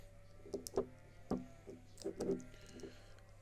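Sheep bleat at feeding time in the countryside, several short calls in an uneven run, moderately loud and fairly close, with no talking.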